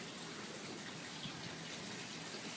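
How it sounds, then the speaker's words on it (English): Fake blood poured over an actor gives a soft, continuous liquid gush, quiet and even from start to finish, with no talking. "when we had to pour blood all over somebody, like for instance this"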